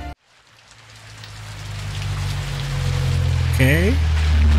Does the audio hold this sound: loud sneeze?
no